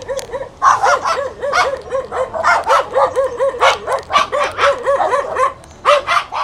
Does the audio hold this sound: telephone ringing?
no